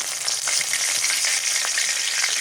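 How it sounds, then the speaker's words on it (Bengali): Bay leaf and whole spices fry in hot mustard oil, producing a dense, bright, even sizzle with faint crackles and light stirring, close and steady with no voices. "সরিষার তেল দিয়ে দিই। তেজপাতা আর 2টা গোটাল মশলা দিয়ে দিই"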